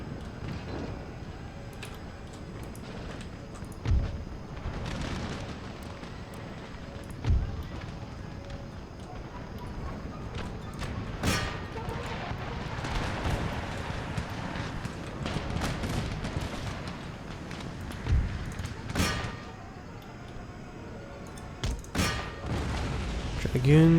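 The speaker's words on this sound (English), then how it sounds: "Remaining cannons fire on that still same unit of tribal auxiliary." Cannon and musket fire crackle through a battle in the strategy game Empire: Total War, scattered sharp bangs and booms over a continuous rumbling din of combat, with someone talking over it.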